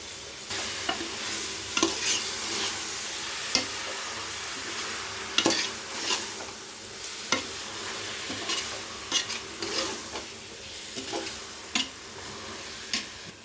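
Coriander and mint leaves stirred in a frying pan over a low sizzle, with repeated spoon scrapes and clinks against the pan at irregular intervals, close and moderately loud.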